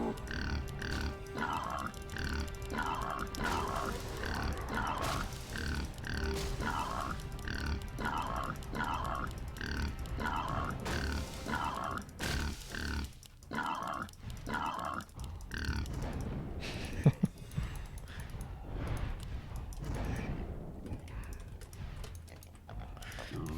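Pigs grunting in Warcraft 3, a series of rhythmic oinks and grunts repeating through the first half, mixed with rapid keyboard typing and clicking throughout, moderately loud and close.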